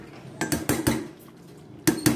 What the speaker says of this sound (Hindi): इसको मैं सिर्फ 5 मिनट के लिए कवर कर रही हूँ